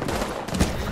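Gunfire in the video game Apex Legends crackles as a brief, dense burst of shots under a busy, noisy game mix.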